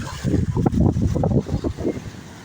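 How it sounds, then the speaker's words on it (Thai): Strong seaside wind at a beach in Rayong buffets the microphone in heavy, gusting rumbles that swell and fade over a few seconds, with no voices heard. "วันนี้ขึ้นลมอาจจะแรงหน่อย"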